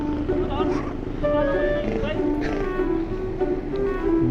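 A motorcycle engine in Parañaque runs with a steady, low droning hum close by, while people talk over it.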